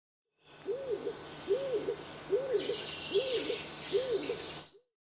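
A dove coos nearby in a repeated soft, rounded call, five even phrases with brief pauses between them, over faint background noise.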